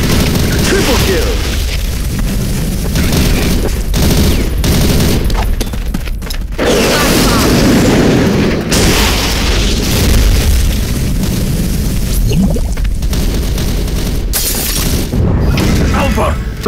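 Loud, constant video game combat with mortar explosions and rapid gunfire in an online shooter's medic match, heavy booms and bursts crowding together with voices shouting through the din.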